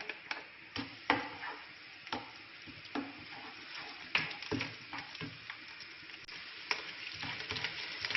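Chopped garlic and ginger sizzle in a few spoonfuls of hot oil over a medium flame for egg fried rice, a continuous close crackle broken by occasional sharp clicks and scrapes of stirring.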